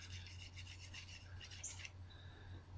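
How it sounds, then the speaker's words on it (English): A cleaning brush scrubs back and forth inside the barrel of a Taurus TCP semi-automatic pistol, making a soft, steady rasping rub close by, over a low background hum. "I'm going to stick it through and scrub this barrel"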